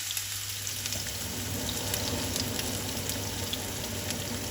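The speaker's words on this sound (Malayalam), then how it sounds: "അര ടീസ്പൂൺ കടുക് ചേർത്തു കടുക് പൊട്ടി വരട്ടെ" Half a teaspoon of mustard seeds crackle and splutter in hot oil, a dense sizzle with scattered sharp pops, alongside a low steady hum.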